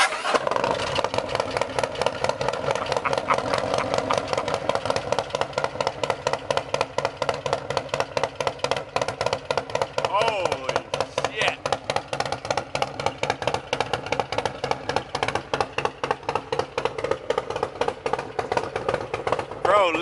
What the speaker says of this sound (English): listen to that fucking exhaust